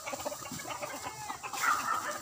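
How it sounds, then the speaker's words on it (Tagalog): A flock of fighting cocks and hens on a game-fowl farm clucks continuously, with a rooster crowing near the end, the birds loud and close. "Yan po yung mga manok bandae po niyan guys."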